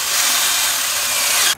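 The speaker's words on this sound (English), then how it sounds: "We're using a bit of a counterbore first to get around the glue piece that's on the back of the lights," A power drill boring a counterbore hole through a trailer panel for tail light wiring, a loud steady high whirring grind that runs continuously, then cuts off abruptly at the end.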